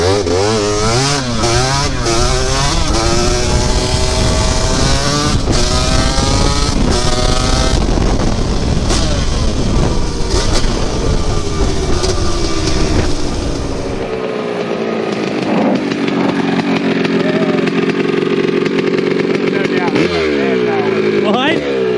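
A Honda TRX250R ATV fitted with a 390cc engine revs hard and rides, its loud, rising and falling engine note sweeping through gear changes up close, easing to a lower drone near the end while people talk over it.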